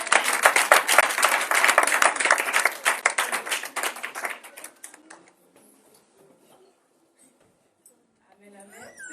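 A church congregation at a Sunday service clapping together in a rapid, dense burst that is loud at first, thins out and fades into near silence, before faint sounds return at the end.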